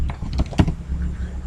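A password typed on a computer keyboard: a short cluster of close, crisp key clicks, one sharper tap near the middle.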